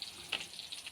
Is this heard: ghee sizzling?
yes